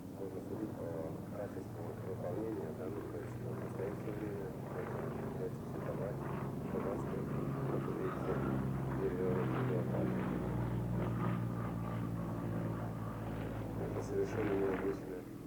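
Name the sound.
Yak-55 aerobatic plane flying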